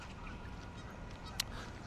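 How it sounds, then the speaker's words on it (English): Geese honking outdoors as a steady, fairly faint background murmur of calls, with one brief sharper honk standing out near the middle; no one talks. "You can probably hear the honking geese behind me and stuff,"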